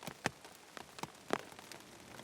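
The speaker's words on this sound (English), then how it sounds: "The rain falls." Rain falls steadily at night outdoors near trees, with separate drops tapping sharply on a surface over a soft, constant hiss.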